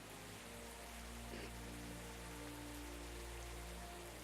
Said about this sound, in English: I just noticed it's raining, so not only is it a day-night cycle, but it also has a weather system as well.